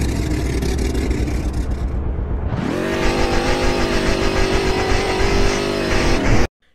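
A car's popping exhausts in the Roblox game Greenville: a rough idle rises into a sustained loud rev with a rapid crackling pulse running through it, then cuts off abruptly.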